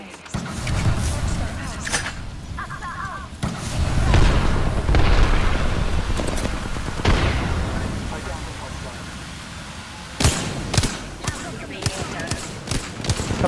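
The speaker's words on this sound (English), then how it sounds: "Throwing thermite grenade." Thermite grenades burst in a shooter video game, heavy booms and crackling bursts, with a sharp cluster of loud hits near the end, under game noise and a talking player.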